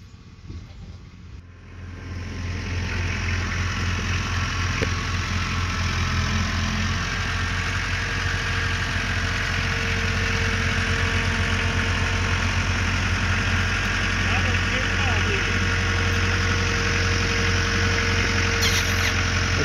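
A delivery truck bringing ceiling boards idles nearby, a steady low rumbling engine drone holding constant for many seconds with a faint mechanical clatter in the hum.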